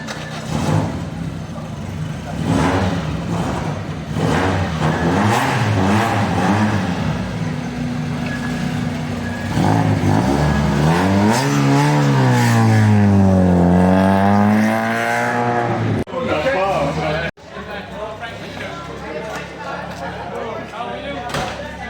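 A Peugeot 106 race car, number 48, revs its engine at a Momignies B-Short rally event, rising and falling engine tones with a sweeping climb and drop midway, under loud commentary speech.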